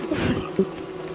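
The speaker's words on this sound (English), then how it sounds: "Some of the bees stopped chasing you because you're getting bored" Bees buzz while chasing players in the Don't Starve Together video game, a close, steady droning hum with a couple of brief louder swells.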